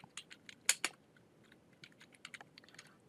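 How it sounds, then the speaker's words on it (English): Keys on a computer keyboard are pressed in a few quiet, sharp clicks, with a couple of louder taps early on and scattered lighter ones after. "let's make it white by hitting the 2 key on our keyboard to define our second filament"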